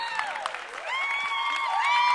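Home crowd at a Westfield girls high school basketball game against Cranford cheers and applauds, a steady roar rising in the second half, with shrill whistles and voices carrying through the gym.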